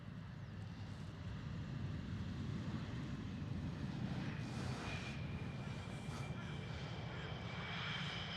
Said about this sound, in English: That was another KLM Cityhopper E175